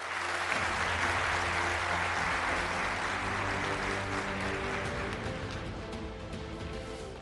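An audience applauds steadily and loudly throughout at a stock exchange event, a dense wash of clapping that tapers slightly toward the end.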